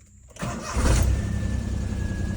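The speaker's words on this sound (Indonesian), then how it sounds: "coba kita start mobilnya" A car engine cranks and catches after a short pause, then settles into a steady idle with a faint high whine, close and moderately loud, without speech.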